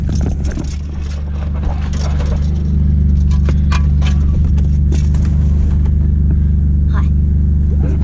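Holden VE SS ute engine cranking and catching, settling into a loud, deep, steady rumble after a few seconds, close by.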